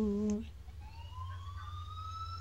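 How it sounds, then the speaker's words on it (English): A police siren in Mario Kart 8 wails steadily in the distance, rising slowly in pitch, after a brief burst of a voice at the start. "I heard the sirens of the cops"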